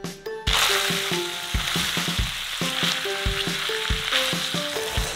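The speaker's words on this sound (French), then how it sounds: "Un peu d'ail séché et on remue." Tomato sauce and dried garlic sizzling loudly in a frying pan while being stirred, a steady close hiss broken by repeated clinking and scraping of the utensil against the pan.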